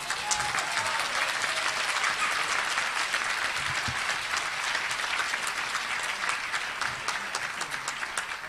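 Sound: audience applause

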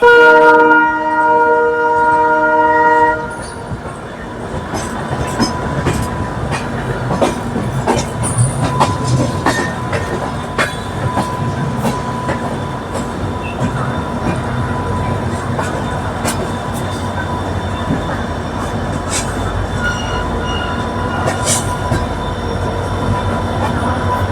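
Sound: passenger train running on the tracks

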